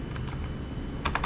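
Typing on a computer keyboard, a short run of light key clicks over a low background hum, with a quick cluster of sharper taps near the end.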